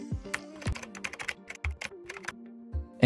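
Keys on a computer keyboard tap in quick, uneven runs as a schedule name is typed, with crisp, close clicks and short gaps between them.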